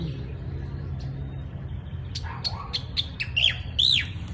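Several birds chirp and squawk in quick bursts over a steady low background hum on a farm, the calls growing louder and more frequent toward the end.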